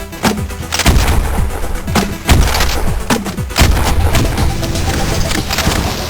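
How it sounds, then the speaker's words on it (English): China Lake grenade launcher firing in the retro shooter Cultic: heavy thumping launches and booming explosions recurring every second or so, loud and close, with a narrator talking faintly underneath. "This grenade launcher is a China Lake."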